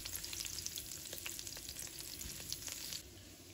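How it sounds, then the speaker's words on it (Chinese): Garlic slices frying in hot oil in a wok for a green bean stir-fry, a steady close sizzle with crackling pops throughout, easing slightly near the end. "油热之后，把蒜片放入锅中"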